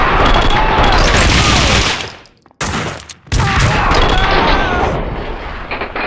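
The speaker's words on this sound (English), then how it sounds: "Someone must have heard the gunfire." Heavy gunfire rattles in dense, continuous bursts during a Max Payne 2 firefight, loud and near, dropping out briefly for a second before the shooting resumes just as intensely.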